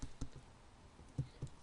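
Scattered keystrokes on a computer keyboard while typing into an R console, sharp separate taps spaced irregularly over soft room noise, close and fairly quiet, with no talk.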